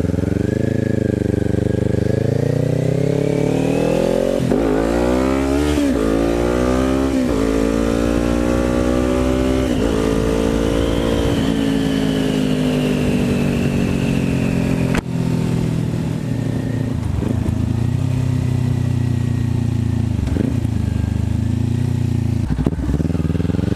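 A Kawasaki Ninja 400 with a newly installed aftermarket exhaust revs loud and close, its engine note rising and falling through several blips with a steady rumble underneath.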